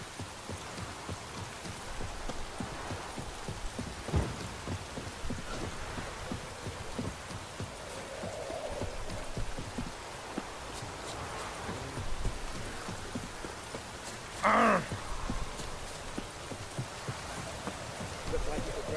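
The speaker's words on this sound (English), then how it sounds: "Looks like it would rain, and here it is." Steady rain hisses throughout a scene in The Witcher 3, a continuous wash of falling water with a brief sharper sound near the end, while faint game noises sit beneath.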